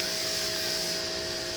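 A 2200 psi electric pressure washer spraying Simple Green, a steady loud hiss and motor whine with a constant pitched hum, close by and unbroken.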